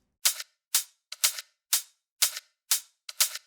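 Seven crisp, bright ticks of a closed hi-hat, evenly spaced about half a second apart, dry and isolated with silence between hits.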